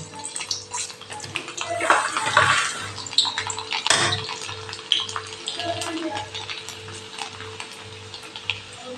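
Whole garlic cloves frying in hot oil in a pan, a steady crackling sizzle with bubbling and scattered pops, close and fairly loud throughout.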